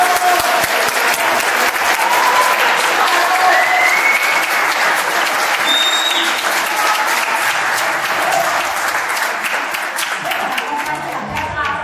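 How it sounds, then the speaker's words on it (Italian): Theatre audience applauding a theatre company's representative at an evening show, dense sustained clapping that fills the whole stretch at steady loudness with a few whistles and cheers mixed in. "Chiedo un applauso."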